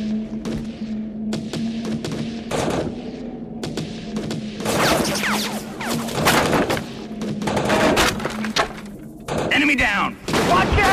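Heavy gunfire in the game Heavy Fire: Afghanistan: loud close bursts and rapid volleys with heavy thuds, sometimes clustered and sometimes spaced out, under shouted voices.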